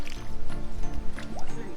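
Water is poured onto red soil being mixed into mortar for a rocket stove, a close, wet squishing and sloshing with dripping and gurgling as the liquid soaks into the earth.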